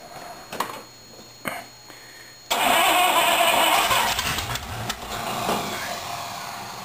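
A 1953 Cadillac engine that had long sat unused, revved up with more throttle: quiet ticking and short bursts, then a sudden loud, sustained rough roar that holds, dips slightly and keeps running close to the microphone.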